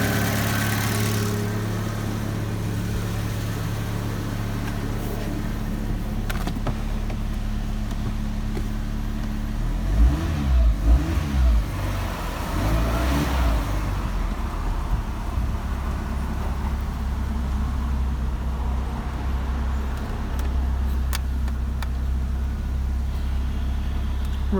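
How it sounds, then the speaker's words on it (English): A Ford Ka engine idles steadily and evenly throughout, with a brief stretch of rattling in the middle, close and continuous. "the engine runs very smoothly"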